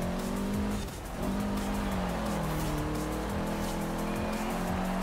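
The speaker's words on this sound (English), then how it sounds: "Get a nice drift around the last of the dirt bends and onto the tarmac" A rally car in Forza Horizon 4 drifts through dirt bends, its engine revving hard and loud while the tyres scrabble and slide, revs dipping and rising through the turns.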